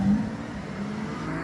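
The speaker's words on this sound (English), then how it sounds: "Just recording the A12 leave and a Revuelto pulls up" A Lamborghini Revuelto pulls up nearby, its engine a steady, full low drone that holds at moderate loudness with no sharp revs over the short stretch.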